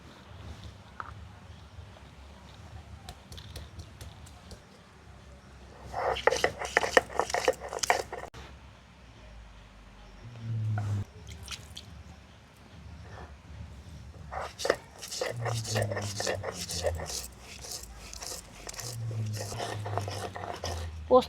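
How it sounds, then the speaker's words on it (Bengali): Ginger, poppy seeds and melon seeds ground on a stone slab in a kitchen, with bursts of rough scraping and crunching strokes separated by pauses, close and moderately loud, while someone speaks between the bursts. "এবারে আমি মশলাগুলো বেটে নেব। মশলার মধ্যে নিয়েছি কিছুটা আদা আর পোস্ত,"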